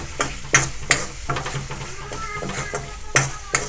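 Mutton kidney fries with cumin powder and garam masala as a spoon stirs the pan, giving a continuous close sizzle broken by several sharp scraping strokes.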